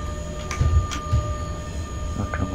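Electric E186 locomotive hauling a freight train in the SimRail video game, a low rumbling rail hum with faint squeals and clicks as power is applied, steady and moderately loud.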